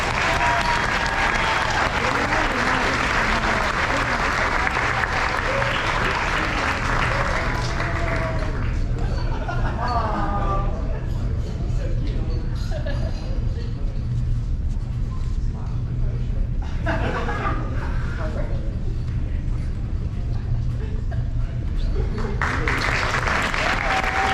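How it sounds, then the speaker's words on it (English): An audience at a high school senior awards ceremony gives students a loud, sustained round of applause in a hall; the clapping thins in the middle while a voice speaks, then swells again toward the end. "Let's give a round of applause to our students."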